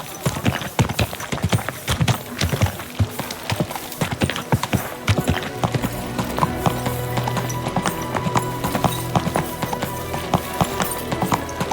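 Hooves of a horse clip-clop in steady, fairly close rhythm in Kingdom Come: Deliverance II, with a low sustained hum entering partway through and a brief voice heard under the hoofbeats.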